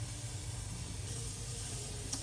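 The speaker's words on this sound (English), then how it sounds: "hear that sizzle." Steady broadband hiss of salt pork sizzling in a hot pan on a stove burner, continuous and close, with a low hum underneath and no talking.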